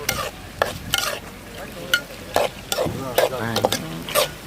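Onions and curry leaves frying for a country chicken fry, with loud rhythmic scraping and clanking of a ladle stirring the pan over a constant sizzle.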